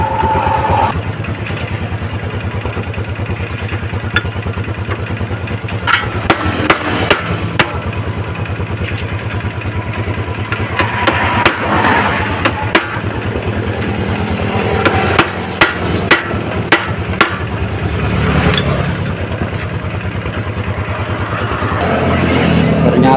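Repeated metal hammer blows strike a seized bolt on a Jupiter MX motorcycle in a workshop, sharp clanks arriving in irregular bursts over a steady low hum, with occasional talk between strikes.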